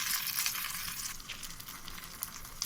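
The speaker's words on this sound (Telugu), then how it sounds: "జాగ్రత్తగా నిదానంగా సన్న ఫ్లేమ్ మీద మీరు వీటిని పచ్చడికి వేయించుకోండి" Green chillies frying slowly on a low flame for cucumber chutney give a steady, close sizzle with soft crackles and occasional small pops, continuous throughout.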